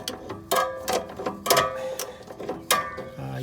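Ratchet clicking while tightening exhaust gasket nuts on a second-generation Toyota Prius, several short metallic bursts of rapid ratcheting clicks in quick irregular strokes, close and moderately loud with no talk.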